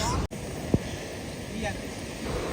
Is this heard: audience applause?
no